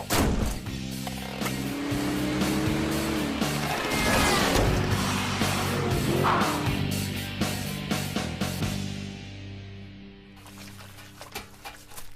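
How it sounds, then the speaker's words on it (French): A cartoon car driving off, a busy rattling motor with clatters and bangs that builds loudly and then fades away, over a continuous music bed. "Je vais faire un tour en voiture."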